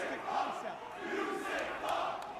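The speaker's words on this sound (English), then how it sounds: "The crowd chanting, "You sick fuck."" A wrestling crowd chants at an indie tag match between El Generico & Colt Cabana and Kevin Steen & Steve Corino, rhythmic massed voices rising and falling in a few phrases, heard from a distance at low level.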